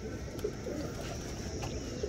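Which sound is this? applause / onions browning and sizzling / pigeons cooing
pigeons cooing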